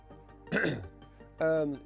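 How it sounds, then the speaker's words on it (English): A single rough, close throat clear, followed a moment later by a short voiced sound. "Just clear my throat."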